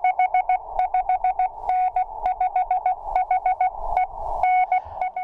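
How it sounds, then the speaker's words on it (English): Morse code sent as continuous wave radio tones, a clear, loud pure beep keyed in quick rhythmic groups of short and longer pulses with brief gaps, alone and close. "Continuous wave propagation is Morse code."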